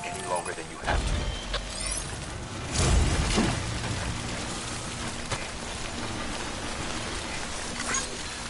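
Steady rain hisses throughout, timefall in the video game Death Stranding, with a few brief mechanical clicks and thumps over the constant downpour.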